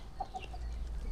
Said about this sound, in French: Ah, une poule.